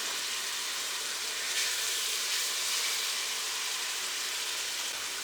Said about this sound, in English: So I'm just going to fry it up a bit.